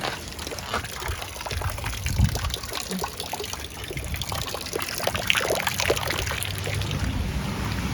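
Rainwater from the street runs into a veranda in a steady, continuous pour, with gushing and trickling close by through the whole stretch and no talk.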